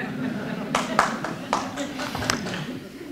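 A few scattered claps from an audience at a talk on teachers and public schools, spaced unevenly over low room noise rather than building into full applause.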